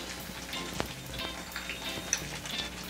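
Garlic and salmon, skin side down, fry in a pan with a soft, steady sizzle and faint crackles and pops, quiet and continuous, with no talking.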